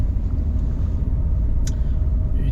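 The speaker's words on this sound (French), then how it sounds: "donc évidemment on entend un petit peu le moteur" A 2019 Fiat Panda 1.2 70 Easy engine idles or runs steadily, a loud, constant low rumble heard from inside the car with no breaks.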